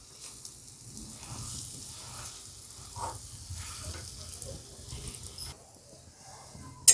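Boiled potatoes are stirred and mixed in a pan for aloo paratha stuffing, producing a continuous close scraping and soft mashing sound with a faint sizzle underneath, ending in a sharp clack.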